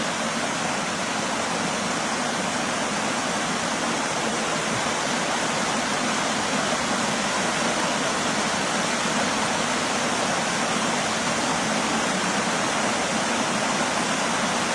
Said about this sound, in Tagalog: Kasi pag bubukas yung dam, ayan, kung malakas yung agos yung tubig